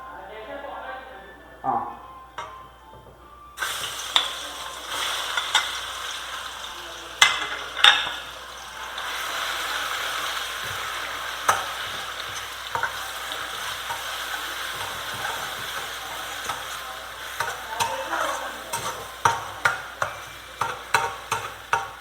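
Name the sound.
crushed shallots, garlic and chilli frying in pan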